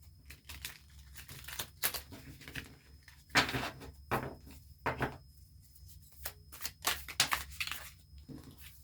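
Tarot cards are shuffled by hand in irregular bursts of crisp riffling and slapping, close and fairly quiet, with short pauses between.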